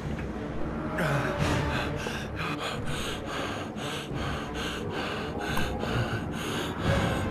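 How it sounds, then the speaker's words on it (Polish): A video game character in Heavy Rain breathes heavily in panic, with rapid, ragged inhales and exhales repeating close up for several seconds. "to są, rozumiem, quick time eventy na uspokojenie oddechu"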